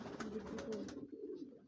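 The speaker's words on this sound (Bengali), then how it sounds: "এখানে অনেক অনেক কবুতর রয়েছে" Many pigeons at a loft holding highflyer and racing breeds coo in a low, soft, murmuring chorus, with a few faint higher flutters or calls above the steady rumble.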